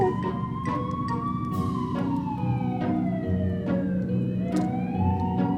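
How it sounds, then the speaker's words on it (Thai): A toy fire truck's wailing siren sweeps up and down continuously, loud and close, with faint clicks and thumps beneath it. "รถดับเพลิงกำลังมา"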